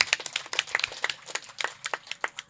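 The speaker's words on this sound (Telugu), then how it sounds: "ఒకసారి గట్టిగా చప్పట్లు కొట్టుకుందాం" An audience applauds for Patriji, the guru, at a pyramid gathering in Draksharamam, East Godavari, with many hands clapping briskly and irregularly close by.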